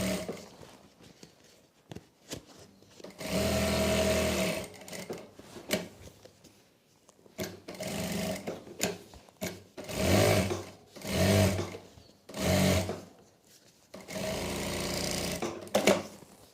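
A sewing machine stitches a strip for a salwar with a thick stitch setting, running in several loud mechanical bursts of differing length separated by short quiet gaps.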